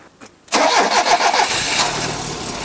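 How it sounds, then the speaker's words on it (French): Alfa Romeo 33 1.7 16V flat-four boxer engine cranking briefly after a short near-silence, then catching and settling into a loud, rough, close-up idle. "On a vraiment la sonorité particulière du boxeur."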